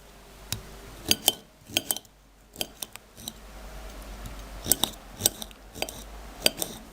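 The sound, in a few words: knife slicing tomatoes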